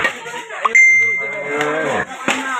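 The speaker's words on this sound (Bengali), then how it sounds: "ভালো পরিমাণে গরু আছে এখানে" Cattle at a crowded night cattle market low with drawn-out moos close by. A bell rings now and then, and there is faint background murmur.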